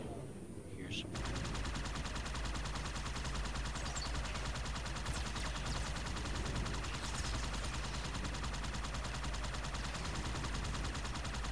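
Sustained rapid video game gunfire, a dense continuous automatic stream lasting throughout, steady and loud in the mix with voices faintly underneath.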